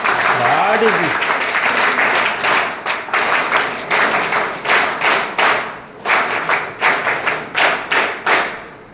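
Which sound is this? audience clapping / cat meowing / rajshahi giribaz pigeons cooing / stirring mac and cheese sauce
audience clapping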